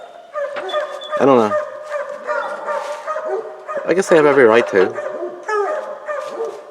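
A pack of about a dozen hunting dogs at a campground in Elmwood Recreation Area barks, yips and whines in repeated bursts, loud and fairly close, while people talk over them.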